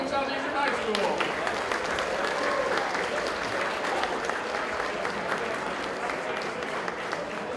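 Sustained applause fills a large hall at a high school esports awards ceremony, honoring Hamilton Southeastern High School: a dense, steady roar of many hands clapping from start to finish, with faint voices and cheers mixed into the crowd.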